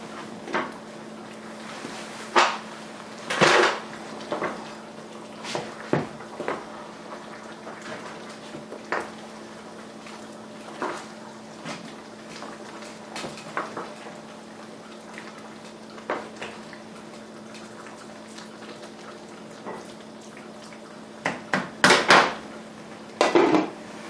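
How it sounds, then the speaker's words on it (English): Chili simmering in a pot, stirred with a utensil that knocks and clanks against the sides in scattered bursts, some louder clunks near the start and end, over a low steady hum, no voices. "I'm going to give it a stir."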